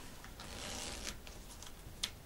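A zipper slider is pulled along an exposed zipper sewn into fabric, a faint, close scratchy rasp with a couple of short ticks and a small click near the end.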